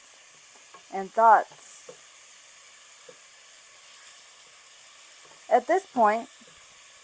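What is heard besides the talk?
onions and tomatoes sautéing in a pan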